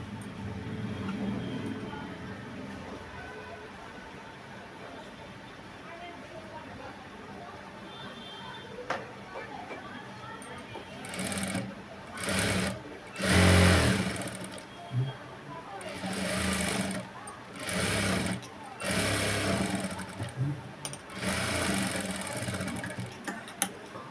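A sewing machine stitching a work blouse runs in short bursts of rapid mechanical whirring, close by, stopping and starting after a quieter stretch, with a person talking throughout.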